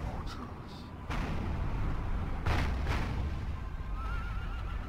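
Artillery shots in the Third Age Total War video game, a few distant muffled booms spaced apart within a steady battle din, with faint horse sounds.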